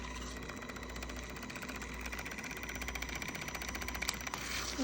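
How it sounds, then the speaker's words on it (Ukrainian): A handheld milk frother whisking milk for coffee, giving a continuous, close, buzzing motor whir that grows slightly louder toward the end, with no speech. "зараз буду робити собі каву з капучинатором"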